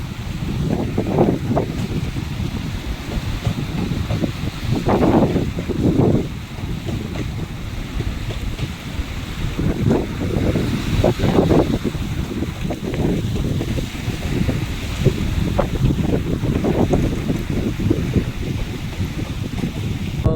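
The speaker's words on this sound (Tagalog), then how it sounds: "napakalakas naman ng amihan" Strong northeast monsoon wind buffets a boat at sea, a steady loud roar of wind against the microphone with water rushing and slapping in repeated gusts, no talk.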